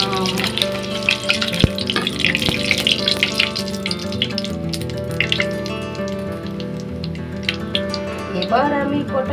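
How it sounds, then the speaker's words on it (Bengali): Mustard seeds crackling and popping as they fry in hot oil, a busy sizzle full of quick pops, with someone talking over it. "এত সর্ষেগুলো কি সুন্দর ফাটছে ফাটছে, দেখছো?"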